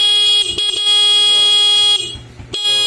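A motorcycle horn honks in short repeated blasts, loud and close, with brief gaps between bursts and some background noise; the motorcycle has a full-wave setup and no battery.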